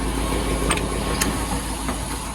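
A tow truck engine idles steadily with a low, continuous rumble, joined by a few brief higher clanks or rattles.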